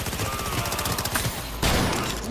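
Rapid automatic gunfire from a gun in Cyberpunk 2077, loud dense rattling shots close up that surge into a heavier burst partway through, with no talk.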